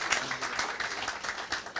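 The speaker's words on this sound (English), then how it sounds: "Give yourselves a round of applause." Audience members at a cloud-native tech meetup applaud after the talks, steady scattered clapping that is fairly quiet and distant and continues without a break.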